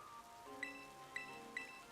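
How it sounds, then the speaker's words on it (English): Steady soft rain hisses in the video game Pokémon Scarlet/Violet, a constant quiet patter beneath gentle game music with three bright chime notes ringing over it. "Why is it raining right now?"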